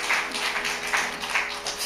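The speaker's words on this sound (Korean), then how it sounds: "우리 하나님께 영광의 박수 올립니다." A church congregation at Sunday morning worship claps together in a steady, dense wash of applause lasting a couple of seconds, with no one speaking.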